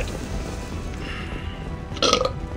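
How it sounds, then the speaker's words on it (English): A short, loud burp near the end of the clip stands out over steady background game audio during a Mass Effect 2 play session. "Most of your burps are really, really gross."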